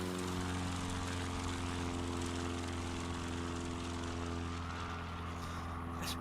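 Simulated Aviat Husky propeller plane taking off in Microsoft Flight Simulator at a virtual eSTOL competition, a steady droning engine hum with a constant buzzing tone, continuous and close, without talk.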